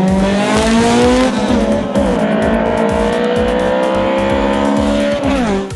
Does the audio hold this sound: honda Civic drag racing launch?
yes